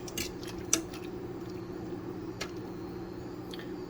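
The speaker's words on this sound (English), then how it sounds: "we're just going to take a fork and stir this stuff up" A fork stirs Korean rice cakes and ramen in a pot, giving faint scattered clinks and scrapes over a low, steady background hum.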